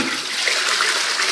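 A toilet flushes in a bathroom, a loud, close rush of water swirling down the bowl that holds steady for the whole short stretch, with no talking.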